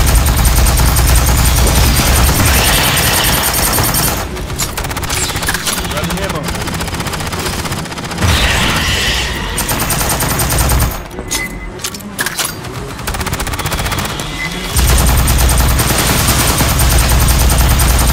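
Sustained automatic gunfire from the video game Aliens Fireteam Elite in horde mode blasts loud and dense in long bursts with brief gaps, cut through by sharper shots and game effects, with a voice talking over the action.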